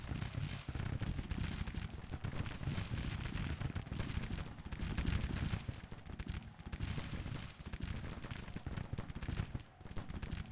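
Massed Mississippi rifles and rifled muskets fire in a Civil War battle in the video game Grand Tactician, a dense, continuous crackle of overlapping volleys with heavier booms mixed in.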